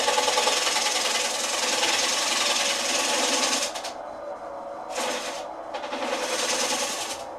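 A wood lathe spins a lazy susan piece while a 3/8 bowl gouge cuts, a steady close hissing scrape that pauses briefly twice before resuming.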